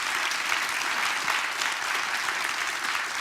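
Dense, sustained applause from a large conference audience honoring panelists and keynote speakers, a steady wash of many hands clapping at once, even in level throughout.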